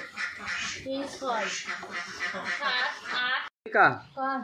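Ducks kept in an enclosed duck farm, raising a dense, close chorus of nasal quacks that overlap one another almost without pause before a short break and a final burst.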